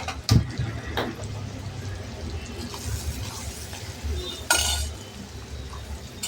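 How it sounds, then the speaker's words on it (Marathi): Finely ground spice masala with turmeric frying in oil, a soft low sizzle under occasional clinks and scrapes of a spoon against the pan, with a couple of sharper knocks. "आणि हा मसाला बारीक वाटलेला आहे तो छान परतून घेऊया।"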